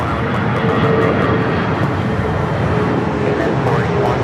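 An airliner taking off from runway 25 right at Los Angeles International Airport, a loud continuous engine roar that stays steady and close for the whole stretch.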